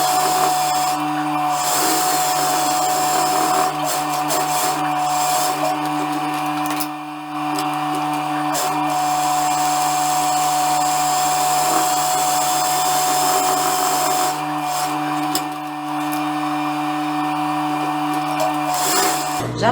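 A sewing machine runs two seams on fabric ruffles, a continuous close motor whir with a steady rhythmic stitching buzz, briefly easing twice before resuming, no talk.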